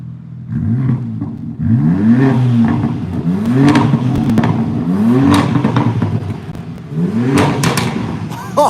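A 2021 BMW M3/M4 engine in Sport Plus mode revs repeatedly, five or so sharp rising blips with pauses between, loud and close, with people talking around it.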